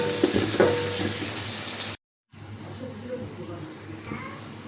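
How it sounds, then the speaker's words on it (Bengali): Two spoons each of chopped ginger and garlic fry lightly in soybean oil, making a soft sizzle with some stirring. The sound is loudest at first, cuts out briefly, then returns quieter, with a voice talking over it. "2 চামচ আদা কুচি, 2 চামচ রসুন কুচি। এটাকে আমি হালকা করে ভেজে নিব"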